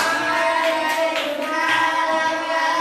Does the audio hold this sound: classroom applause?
yes